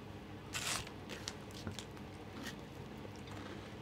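Someone bites into a crunchy Whatchamacallit candy bar, a chocolate-coated bar with crisped rice and caramel, giving a few close, sharp crunches near the start and then fainter chewing crackles.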